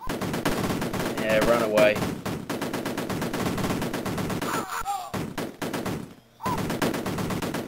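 Rapid bursts of small-arms fire from soldiers in the Amiga game Cannon Fodder, crackling in dense volleys with brief gaps and game effects, while someone talks over it.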